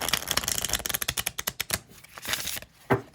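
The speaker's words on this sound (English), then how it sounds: "It shuffles surprisingly well for such a teeny tiny" A small tarot deck is shuffled by hand, giving a rapid flurry of crisp card riffles and flicks up close, followed by a short pause and a final tap.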